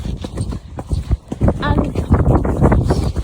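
Hooves of a horse named Jasmine clip-clop in a steady walking rhythm while she is ridden without hands on the reins, the rider talking over the close, regular footfalls.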